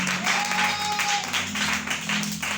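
A church congregation applauds and cheers for Jesus in a steady, dense wash of clapping and voices that carries on without a break.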